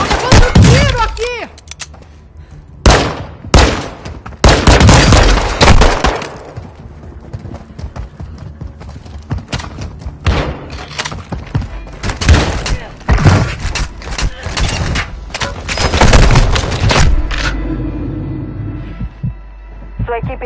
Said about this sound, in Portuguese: Tá dando tiro aqui!